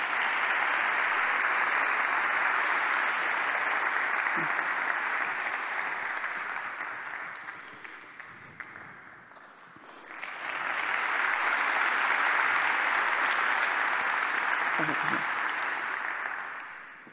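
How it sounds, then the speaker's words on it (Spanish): Audience applause at a closing awards ceremony of a corporate forum, a steady dense clatter of many hands that swells, thins out midway, then rises again to full strength. "Más aplausos para llenar el hueco."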